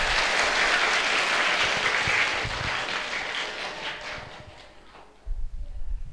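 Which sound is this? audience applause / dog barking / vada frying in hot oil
audience applause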